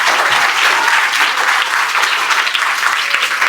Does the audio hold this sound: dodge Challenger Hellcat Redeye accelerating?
no